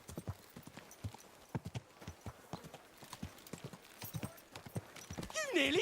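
Horse hooves clip-clop at a steady walking rhythm on a town street in the video game Kingdom Come Deliverance II, close and clear, with a brief whinny-like sound near the end.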